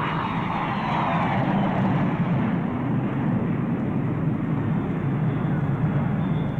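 A passenger airplane arriving at an airport, heard as a steady, loud broadband roar of jet engine noise that holds constant throughout, with no clear talk over it.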